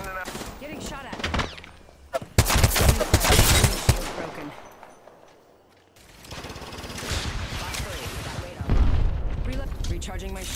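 Heavy gunfire and explosive bursts in the Apex Legends shooter, dense loud volleys that fade out briefly and then return, with a voice talking over the action.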